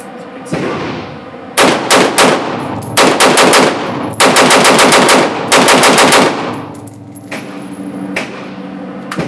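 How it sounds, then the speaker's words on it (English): Rapid bursts of gunfire from a rifle fitted with an Olight PL Pro weapon light, several loud strings of rounds fired downrange in quick succession, separated by short pauses, with no talking. "Send some rounds downrange."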